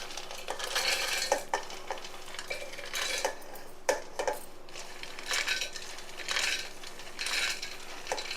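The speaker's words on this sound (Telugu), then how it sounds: "ఇప్పుడు పల్లీలు వేసేసుకుందాం." Roasted peanuts tip into a pan for a fresh chutney, giving a burst of rattling, clattering knocks and scraping stirs with a spoon against the metal, close up and fairly loud, with no voices.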